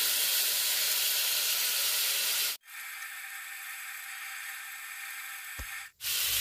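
Bottle gourd fries in a pan with turmeric and salt, giving a loud, steady hissing sizzle that fills the clip, dropping away briefly twice in short dips before resuming at full strength.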